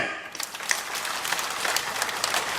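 At a municipal ceremony declaring Attingal town free of waste, a crowd applauds the Haritha Karma Sena waste workers with dense, steady clapping that runs throughout.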